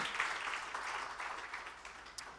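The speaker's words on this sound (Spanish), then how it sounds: "Si quieres darle un aplauso al Señor" A church congregation clapping for God after a prayer, a faint, fairly distant patter of many hands that gradually tapers off over a couple of seconds.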